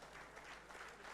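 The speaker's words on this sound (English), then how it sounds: "One more round of applause, please." Audience applause filling a hall at a Rotary District 3206 governor installation ceremony: a brief, faint, steady wash of many hands clapping, heard from a distance without distinct voices.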